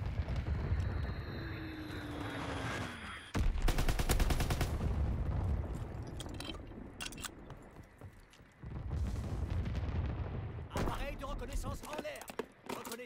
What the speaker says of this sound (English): Bombardement Fritz X en cours.